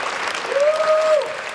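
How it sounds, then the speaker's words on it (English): An audience claps for a university athletic director at a talk, a short stretch of dense, steady applause with a brief vocal whoop rising over it midway. "So let's give him a big round of applause."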